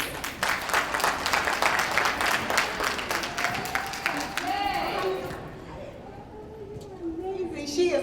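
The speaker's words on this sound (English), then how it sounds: "please give a warm round of applause" Warm audience applause at a 2016 foundation awards event, full and sustained clapping for about five seconds that fades out as a voice begins speaking.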